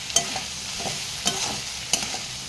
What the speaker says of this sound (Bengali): রসুনটাও ভাজা হবে, আর এই সব কিছু সবজিও ভালো করে ভাজা হয়ে যাবে।